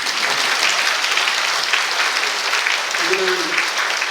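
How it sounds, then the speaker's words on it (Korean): Audience applause fills a hall at a 2022 ceremony marking 35 years of public social welfare officials, steady dense clapping throughout while a speaker's voice briefly rises over it. "이 정도면 박수가 나와야 될 것 같습니다."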